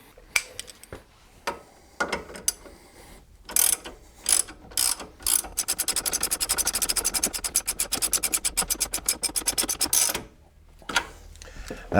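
Ratchet wrench clicking while tightening suspension nuts during a coilover install on a Pontiac GXP, with scattered clicks at first, then a long fast run of steady ratchet clicks up close, tapering off near the end.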